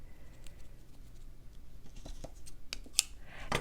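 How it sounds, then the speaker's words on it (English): Small scissors snip a knot out of a length of embroidery floss, giving a few quick, crisp close-up cuts and light handling rustles in a quiet room. "there seems to be a little knot there, so I'll snip that, set that aside."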